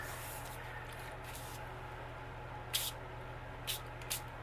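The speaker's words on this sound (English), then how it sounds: "just gonna spray this envelope a little bit" Three short hissing spritzes of gold mica mist from a spray bottle onto a paper envelope, close and quiet, with the first the longest and two quicker bursts after it, over a faint low hum.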